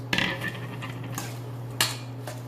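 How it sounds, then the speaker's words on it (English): Tongs tossing spring greens in a metal bowl to lightly coat them, a few bright clinks and scrapes of metal against the dish over a steady low hum, close by. "we're going to take just some of our spring greens and some tongs and just toss it in there"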